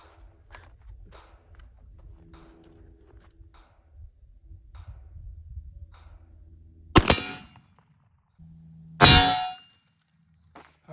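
Citadel Boss 25 shotgun firing slugs at a steel target: two loud, sharp blasts with ringing metallic clangs, spaced about two seconds apart after quiet handling noises and footsteps.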